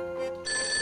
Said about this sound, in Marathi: जाओ जाओ जल्दी जाके फोन उठा